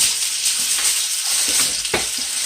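Leg of lamb steak fries in a pan with a steady, close, dense sizzle and a few louder pops and crackles.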